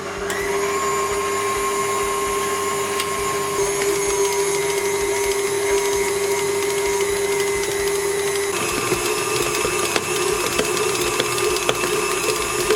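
Stand mixer beating cinnamon roll dough, a loud steady motor whine with a constant hum that drops in pitch partway through as the speed is lowered, close and uninterrupted, no talk.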